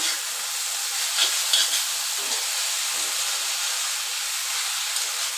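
Constant hissing sizzle from an open pan of pumpkin greens with faint scraping and stirring movements, no voices.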